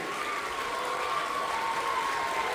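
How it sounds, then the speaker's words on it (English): An audience at a school event breaks into sustained applause, a dense, even clapping noise that holds steady throughout, with a thin steady tone running beneath it. "Let us give a big round of applause to them."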